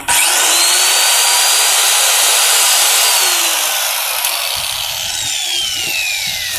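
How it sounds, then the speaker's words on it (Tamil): Loud hammer drilling machine running steadily, a harsh whining power-tool roar with a faint pitch sweep, close and continuous, easing slightly toward the end. "Hammer drilling machine."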